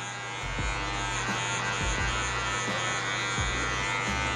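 Electric hair clippers with a 1.5 guard and the lever at high zero buzz steadily while cutting a V fade, a close constant motor hum with brief rhythmic dips as strokes start and stop, no talking.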